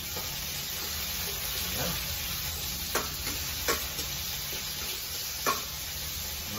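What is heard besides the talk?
garlic and tomato frying in a pan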